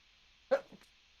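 A single short, sharp sneeze bursts out close by, followed by a faint trailing breath and then quiet.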